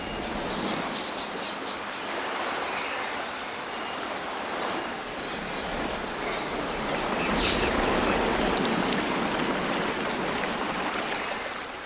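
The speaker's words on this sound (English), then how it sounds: "Birds gently chirping and tweeting, a light breeze flowing through the air and rustling the leaves on the trees" Ambient background of the Wii Sports Golf course: soft bird chirps and a steady breezy hiss with gentle waves washing on a coast, continuous and even, with no voices.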